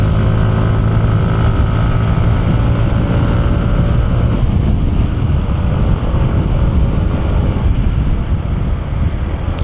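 A Yamaha NMAX 155 scooter being ridden, its engine drone mixed with heavy wind rush buffeting the microphone, loud and continuous with a slight change in engine tone partway through.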